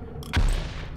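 A single pistol shot fires in Rework The Dead: Evil, one sharp, loud, close crack with a short booming tail over a low game background.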